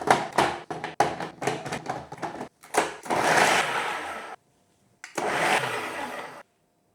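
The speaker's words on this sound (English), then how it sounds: "let's food process this." A food processor grinding ingredients for mole poblano, starting with short choppy pulses and then two longer continuous whirring runs separated by a brief silence, loud and close.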